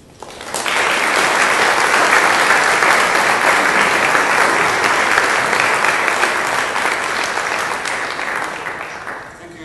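An audience applauds to welcome robotics lecturer Professor Kaspar Althoefer of King's College Informatics. The dense, steady clapping swells quickly and holds for about nine seconds before tapering slightly at the end.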